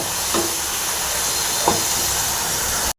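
Masala of ground coriander frying in a pan for a Tamil recipe, a loud, steady hiss of sizzling oil that runs without break, with faint spoon scrapes now and then.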